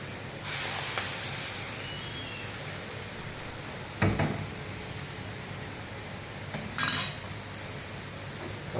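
A spoon stirs pumpkin erissery, a Kerala curry with curry leaves, in a pan as the stove goes off. A steady soft hiss runs throughout, with two brief clattering scrapes of the spoon against the pan partway through.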